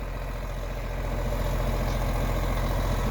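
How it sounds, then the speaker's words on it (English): A 1979 John Deere tractor's engine idles continuously at close range with a steady, low rumble, no voices over it. "good looking tractor right here."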